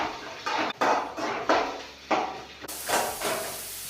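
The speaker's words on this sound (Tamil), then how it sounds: "சேர்த்துட்டு இதே நல்லா கிண்டி விடலாம்." Onions and curry leaves are stirred in a cooking pan for meal maker kurma, producing repeated metallic scrapes and clatters over a steady sizzling hiss, close by, with no voices.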